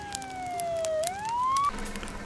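Police and fire engine sirens from the farming simulation game Farm Manager 2021, one wailing tone gliding down then sweeping back up before cutting off, moderately loud with no voices over it.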